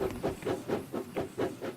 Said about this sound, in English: And I hear steam engines rolling on the way